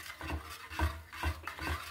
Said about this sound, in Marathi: हे खिरीचं पातेलं ठेवलं आहे. हे बघा, आणि आता हे हलवत राहायचं आहे